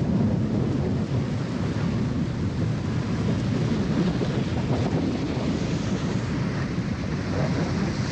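Rain pours outdoors during a thunderstorm in Boston, a dense, continuous roar with low rumbling and wind buffeting the microphone, steady and loud throughout with no one speaking.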